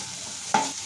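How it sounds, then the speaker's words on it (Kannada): Okra fries in a little oil in a pan, a steady broadband sizzle running alone through the moment, with a brief louder clatter of stirring near the middle. "ಬೇಕಾದಷ್ಟು ಸ್ವಲ್ಪ ಆಯಿಲ್ ಹಾಕ್ಕೊಂಡು ಫ್ರೈ ಮಾಡ್ಕೋಬೇಕು"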